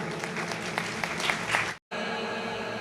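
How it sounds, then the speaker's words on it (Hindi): Audience applause at a Jain honour ceremony in Itarsi, a dense steady clapping that breaks off abruptly, then resumes as a hum-laden, quieter room sound. "जोरदार ताली बजाएं।"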